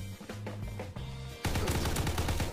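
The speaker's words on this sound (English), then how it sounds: "I really like this gun, it's the STG-44" An STG-44 rifle fires in Call of Duty WWII. A few spaced shots come first, then a dense burst of rapid automatic fire, loud and close, with no talking.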